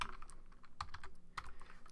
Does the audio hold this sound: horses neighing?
no